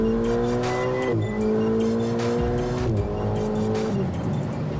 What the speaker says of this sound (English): I really want to hear the sound of the engine, so I'm like, put the window down, give it a go